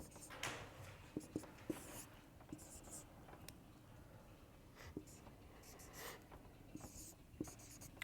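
Chalk or marker scratches out notation on a board in a lecture on singularity functions, a series of short taps and strokes in an irregular rhythm against quiet room tone, with occasional faint voice nearby.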